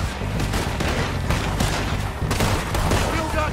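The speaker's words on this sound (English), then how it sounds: "who's shooting at me?" Gunfire in Red Dead Redemption 2, a dense rattling volley of repeated shots, loud and continuous across the whole stretch.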